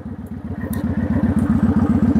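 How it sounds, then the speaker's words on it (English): A motorcycle engine thumps in a fast, even pulsing rhythm close by, loud and unbroken, with faint clicks mixed in as the rider works the clutch and shifts through the gears. "with the heel and toe, I hold in the clutch, click down one, and it comes up"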